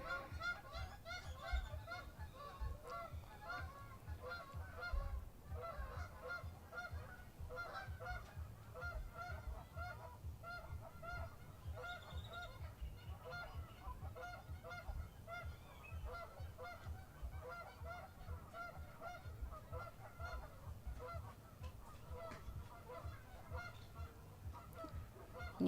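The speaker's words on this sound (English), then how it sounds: "I'm sure you can hear in the backdrop, there are tons of sounds of geese, birds" A large flock of geese honks continuously at a park along an ultramarathon course, their calls forming a dense, steady chorus at a moderate distance with no talking.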